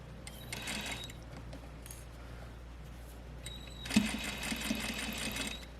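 A sewing machine stitches gathers in two quick bursts of rapid mechanical whirring and needle clatter, separated by a quieter pause with faint handling noises, heard up close.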